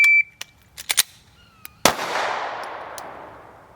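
Gunfire from a live-fire stoppage drill on a range: a few sharp, isolated cracks early on, then one loud close shot at about two seconds with a long decaying echo rolling away.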